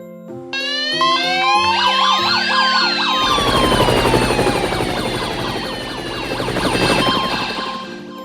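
Several emergency sirens wail at once, rising and falling in overlapping tones, loud and close, with a low rumbling engine beneath.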